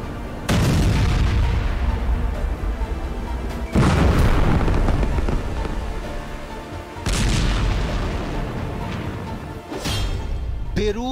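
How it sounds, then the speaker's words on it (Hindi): Deep booming blasts from airstrikes on southern Beirut roll in one after another, three heavy rumbling detonations with long decaying tails, loud and continuous. "बेरूत में 200 धमाके,"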